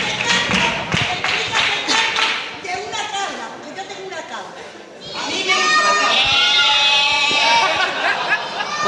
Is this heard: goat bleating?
yes